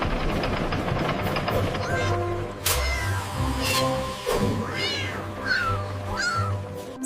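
Cartoon kittens meow in a high, sing-song pattern at an animated birthday dance party, layered over bright music with repeated rising vocal squeals and a low rumbling bed.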